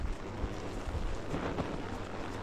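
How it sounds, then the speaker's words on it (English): Strong wind buffets the microphone outdoors at a state park ranch campsite, a steady, loud rumble and roar with gusty swells and no talking. "It's still fighting the wind."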